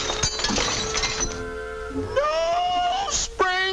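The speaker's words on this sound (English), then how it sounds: "this schlub breaking a piece of glass" A pane of glass shatters amid a busy cartoon soundtrack, a sharp crash with bright scattering fragments that rings briefly over music and effects.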